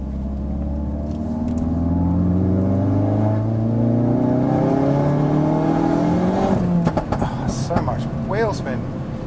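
A Hendy Performance HP500 Ford Focus RS, a tuned 520bhp car, pulls hard on turbo boost, engine note climbing steadily in loud rising harmonics from inside the cabin before a brief lift and fluttering blow-off near the end.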